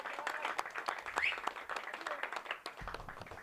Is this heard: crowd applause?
yes